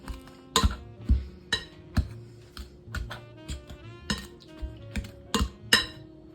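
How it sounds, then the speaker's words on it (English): Pastry cutter chopping grated butter into shortcake dough in a bowl, a series of sharp metallic clicks and taps in an uneven rhythm, close and fairly quiet. "Now I'm still going to use my pastry cutter"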